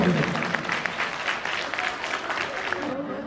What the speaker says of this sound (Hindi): मैं चाहूंगा एक बार जोरदार तालियां के लिए बजाइए